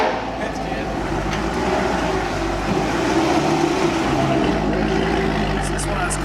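Chevrolet Corvette C6 Z06 with a Corsa exhaust rumbles steadily at close range, a deep continuous engine drone under people talking.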